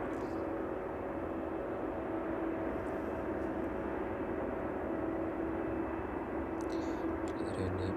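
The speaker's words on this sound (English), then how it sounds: "DPS 767 now on final" A DPS Boeing 767 on final approach to East Midlands Airport gives off a steady, broad jet engine roar that holds at an even level throughout, with no talk.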